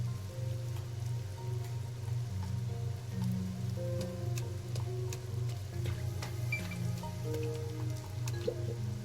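Steady rain falls in the video game Master Detective Archives: Rain Code, a constant even patter with scattered drips over a low ambient hum, with no voices present.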